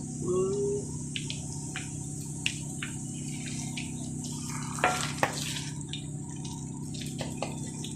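Garlic fries in a pan with a steady low hum, scattered crackles and a few sharper pops, close by and moderately loud with no talking.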